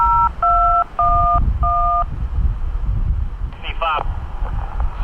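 Paired dual-tone radio command bursts from a locomotive cab operate electric motor-powered yard switches at CSX West Jax Yard; four steady two-tone beeps sound in a row over wind and rumble, followed by a short warbling data burst.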